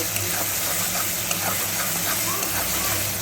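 Steady frying sizzle and hiss as pabda fish is stirred in a pan with salt, turmeric and a little cumin powder, continuous and close with no clear voices.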